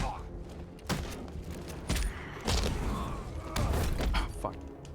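Enemy gunfire in Batman: Arkham Knight, with rapid bursts and sharp shots interspersed with thuds and mechanical clanks, loud and irregular, alongside a talking voice.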